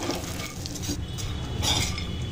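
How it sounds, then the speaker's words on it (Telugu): Almonds fry in a pan until golden brown, as dry fruits are prepared for gond, flax seed and sesame laddus; a steady close sizzle runs throughout, with a spoon stirring and scraping against the pan. "ఇది కొద్దిగా గోల్డెన్ బ్రౌన్ వచ్చే వరకు వేయించుకుందాము."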